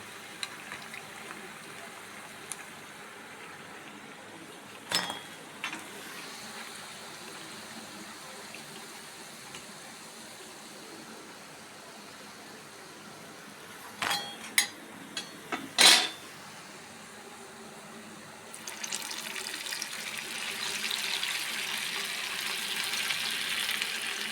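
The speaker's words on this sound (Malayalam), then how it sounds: "നമ്മൾ അരിപ്പൊടി കൊണ്ട് ഇട്ട സ്നാക്സ് നന്നായിട്ട് ഫ്രൈ ആയി ഇത് ഞാൻ എടുക്കാൻ പോവാം" Rice flour snacks fry in oil with a faint, steady sizzle, broken by a few sharp utensil clinks. The bubbling grows louder and fuller toward the end.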